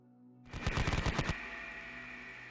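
A short burst of rapid machine gun fire, a sound effect played during a Konflikt '47 tabletop wargame, rattles loudly for about a second after silence, then fades into a lingering ringing tail.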